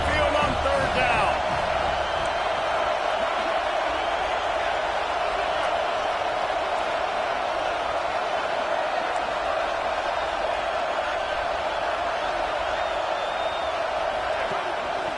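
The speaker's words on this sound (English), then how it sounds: "The Tide crowd roaring noise down onto Saban Field on 3rd down." A home crowd at a college football game roars on third down at Saban Field, a dense, loud, sustained wall of stadium noise with a voice talking over it.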